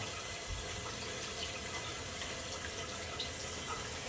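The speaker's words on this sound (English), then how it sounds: "just run some cold, cool water over it" Cold tap water runs steadily over a hot pressure cooker to bring the plunger down, a constant broadband hiss and splash without break, moderately quiet.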